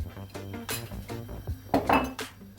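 Crumbled feta cheese being mixed into a Caribbean Greek medley dish, with scraping and clinking of utensil against a bowl or pan in irregular bursts, close by, with a couple of louder clatters near the end.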